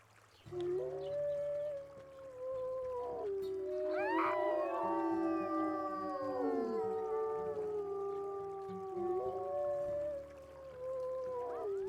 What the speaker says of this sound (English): It's Kayla who has that howl.